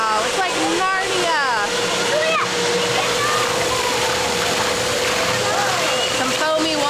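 Steady rushing, foamy water flows continuously outdoors in light snow, a full broadband wash with faint chirpy sounds drifting over it.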